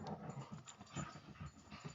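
Dogs panting rapidly indoors, a steady run of close, breathy huffs with an occasional soft whimper, moderately loud and continuous with no talk over it.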